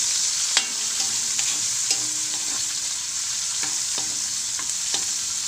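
Garlic, onion and tomato sautéing in a pan, a steady bright sizzle with occasional spoon scrapes and stirring clicks, close and continuous with no voices.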